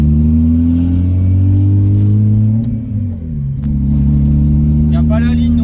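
A turbocharged BMW E36 car pulling away on its first wheel turns after a long restoration, a steady close engine drone that dips briefly and then picks up again, with people talking over it.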